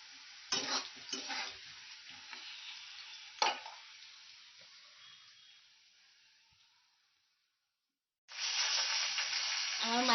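Fish frying in a pan with masala, stirred with a few sharp scrapes early on; a steady sizzle fades to near silence, then returns loud and bright at the end.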